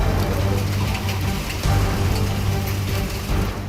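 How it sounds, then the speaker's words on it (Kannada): Heavy rain pours down during a sudden storm in Karnataka, a dense, unbroken hiss of drops hammering surfaces nearby, loud and steady throughout with no talking. "ಏಕಾಏಕಿ ಸುರಿದ ಧಾರಾಕಾರ ಮಳೆಗೆ ಜನ ಕಂಗಾಲಾಗಿ ಹೋಗಿದ್ದಾರೆ."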